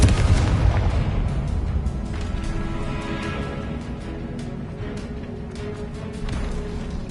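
The Confringo fire-blast spell in Hogwarts Legacy lands as a heavy, booming explosion with deep rumbling low end, loudest at the outset and then rolling on in a sustained, crackling roar across several seconds.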